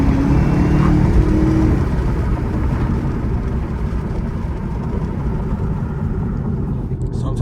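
Driving through Chicago, a muscle car, a ZL1 or Hellcat, gives a steady, loud engine and road rumble that eases slightly over several seconds, with someone talking over it.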